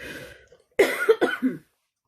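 A single short burst of coughing, two or three harsh hacks close to the microphone, followed by silence.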